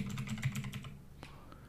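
Quick rapid keystrokes on a computer keyboard type into the Windows 11 search box, a faint close run of clicks that trails into a couple of separate taps.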